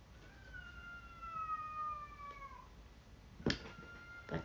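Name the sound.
cat meowing loudly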